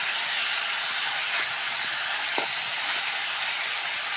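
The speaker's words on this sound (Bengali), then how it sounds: "রোস্টের জন্য গোস্তটা একটু হালকা ভাজে নেব।" Beef sizzles as it is lightly fried for a roast over a wood-fired clay stove, giving a steady close hiss with a few faint pops and clicks and no talk.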